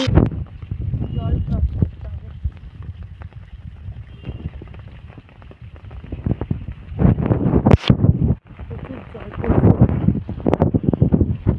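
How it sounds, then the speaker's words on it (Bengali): Strong gusting wind on a rainy day outdoors on an empty street, roaring as broadband rumble with microphone buffeting, rising in bursts near the middle and end, with a person talking over it. "বাবারে বাবারে বাবারে কেমন হাওয়া দিচ্ছে দেখো"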